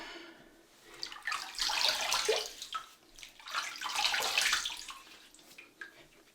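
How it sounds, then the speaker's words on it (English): Water from a sink is splashed onto the face to wet it before shaving. Two close, bright splashing bursts rise and fade with a short pause between them. "So let's wet the face."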